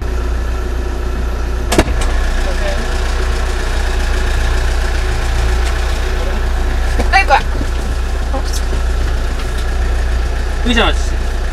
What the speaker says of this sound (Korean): 시동 걸어요.